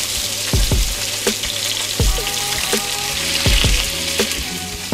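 Salmon fillet searing in a hot pan just after being flipped, a steady loud sizzle with sharp scraping clicks and knocks from a utensil recurring every second or so, no talking.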